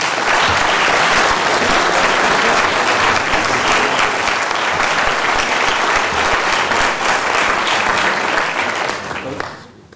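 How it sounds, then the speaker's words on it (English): A city council chamber audience gives loud, sustained applause for the John Marshall boys basketball team, dense clapping that fades out at the very end. "Let's give them a round of applause."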